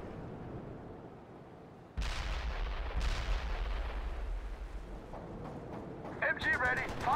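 Machine gun and artillery fire in the World in Conflict strategy game, a sudden heavy blast followed by another, then a sustained rumbling barrage with sharp crackling bursts near the end.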